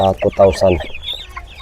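Close, loud clucking from hungry chickens and chicks being fed on a farm, a quick burst of calls followed by fainter peeps.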